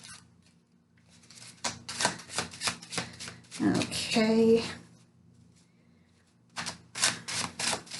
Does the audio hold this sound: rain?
no